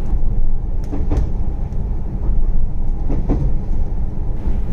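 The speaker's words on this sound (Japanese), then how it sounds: "列車はゆっくりと山瀬駅を通過中です。" A Tsurugisan limited express train on the Tokushima Line rolls slowly through Yamase Station, with a low, steady rumble and a few clanking, rattling knocks from the wheels and carriages.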